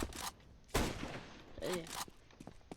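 A few sharp bursts of game gunfire crack out in quick succession, with quieter talk mixed in between the shots.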